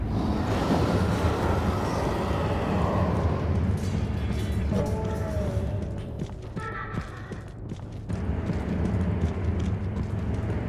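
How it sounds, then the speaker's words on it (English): A pursuer's footsteps in the horror game Amnesia: A Machine for Pigs thud in a steady rhythmic run over a low rumbling drone, fading briefly and then returning, with no talk. "I hear his footsteps, but I don't actually know where he is"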